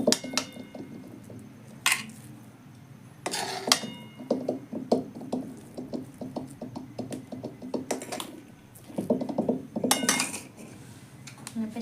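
Metal utensils clink and scrape against a dish while a sweet offering is spooned out of the pan, with irregular knocks and sharper bright taps scattered through the scraping, close by.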